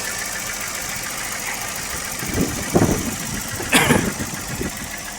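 Peugeot 505 STX V6, an odd-fire engine, idling steadily at moderate distance with a smooth even hum and a few brief louder knocks or clunks near the end, no talking.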